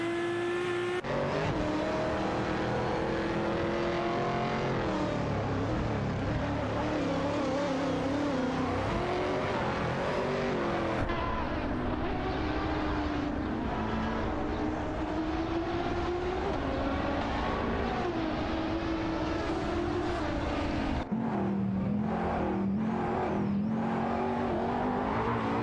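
Race car engines in a racing video game drone and wail continuously, pitch sweeping up through gears and dropping on shifts, loud and close for the whole stretch with a sharp cut near the end.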